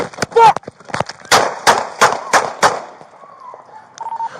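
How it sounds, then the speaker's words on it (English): Gunshots fired during a police traffic stop, a rapid string of sharp, loud bangs in quick succession with a shout at the start, then quieter radio-like tones afterward. "Shots fired. Shots fired."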